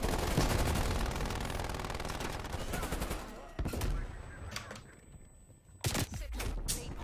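Rapid automatic gunfire in Call of Duty Black Ops Cold War, a loud sustained burst lasting several seconds, then a few scattered sharp shots amid quieter game sounds.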